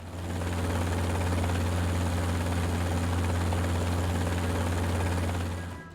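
An AH-64 Apache helicopter flies over a weapons test range in New Mexico, its steady loud rotor thrum and turbine whine continuous throughout, fading slightly at the very end.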